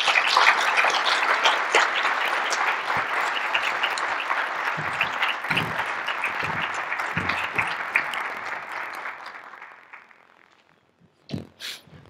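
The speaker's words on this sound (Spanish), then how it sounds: "Vamos a recibir al arzobispo Carlos Garfias Merlos con un fuerte aplauso." Sustained applause from a church audience welcoming Archbishop Carlos Garfias Merlos at a united prayer gathering, loud and dense for about ten seconds before fading, followed by a few isolated late claps.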